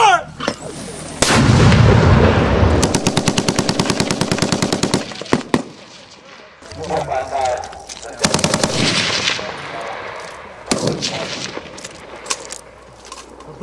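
US Marines fire weapons during a platoon assault exercise, with loud, close bursts of rapid machine-gun fire and scattered single shots echoing across open ground, then trailing off into sporadic reports.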